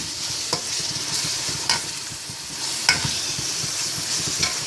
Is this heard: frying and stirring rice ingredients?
yes